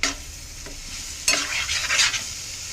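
Carrot fry being stirred in a pan, with a soft steady sizzle and a few louder scraping, stirring bursts near the end, close by and with no talking.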